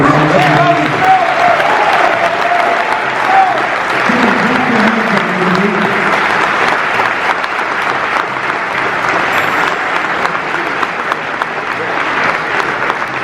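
An event audience claps hands in sustained, dense applause filling the whole stretch, loud and close, with a voice speaking over it early on.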